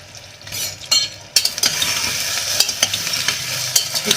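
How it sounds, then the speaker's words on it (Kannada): Brinjal, tomato and green chilli are stirred in hot oil, a spoon scraping and clattering against the pan in irregular strokes over a continuous close sizzle. "ಈ ಥರ ಒಂದು ರೌಂಡು ತಿರುಗಿಸ್ಬಿಟ್ಟು ಆ ಎಣ್ಣೆ ಜೊತೆ ಈ ಬದನೆಕಾಯಿ, ಟೊಮೆಟೊ, ಮೆಣಸಿನ್ಕಾಯಿ ಎಲ್ಲ ಬೆರ್ಕೋಬೇಕು"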